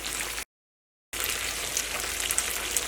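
Chilli chicken sauce frying in a pan with a steady close sizzle, which cuts out into silence for a moment before resuming, and no voices are heard.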